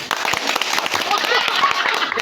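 Audience applause at a Filipino balagtasan verse debate, a brief burst of many hands clapping in a crowded hall, with a voice speaking over it.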